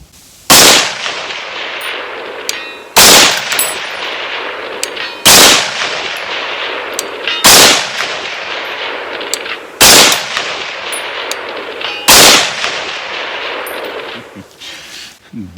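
A PSA Sabre 18-inch .308 AR10 rifle firing ball ammunition lets off six loud, sharp shots spaced a couple of seconds apart, each crack followed by a short fading echo outdoors.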